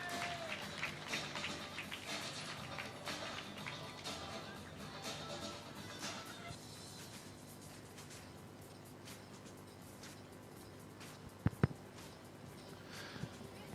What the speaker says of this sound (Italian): Per l'Assindustria Sport Padova un bel applauso per Keren Bongo.